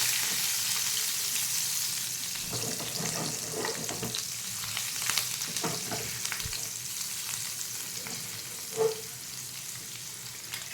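Six or seven garlic cloves frying in oil with cumin and asafoetida for a besan spiny gourd curry, a continuous quiet sizzle with scattered stirring scrapes and one brief clink near the end.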